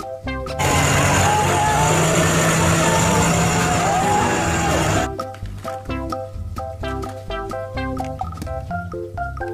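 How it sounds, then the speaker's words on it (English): A school bus rumbles with a steady, loud engine and road noise for about five seconds, then cuts away to a bright, bouncy music track. "School bus. Bus sekolah."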